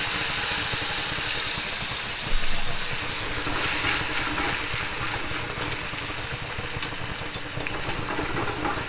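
Tomatoes fry in hot oil with hot pepper flakes for Sicilian spaghetti, giving a loud, steady hiss and crackle that sizzles on without a break.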